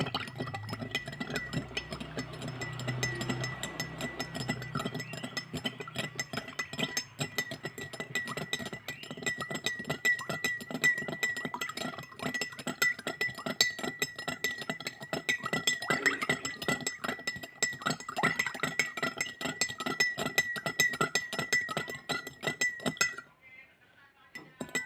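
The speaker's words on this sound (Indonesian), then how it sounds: "Kita aduk." A metal spoon stirs sugar into a glass of water, giving a steady run of quick, bright clinks against the glass that carries on for about twenty seconds before stopping, fairly close and moderately loud.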